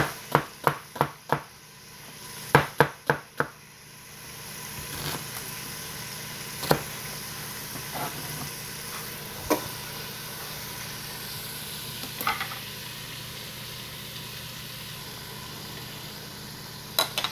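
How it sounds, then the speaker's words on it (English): Beef stew meat browning in a Ninja Foodi, with a few sharp clanks and knocks at the start, then a steady moderate sizzle broken by occasional clicks, no talking. "we're not trying to cook this stew meat, we're just trying to brown it on all sides"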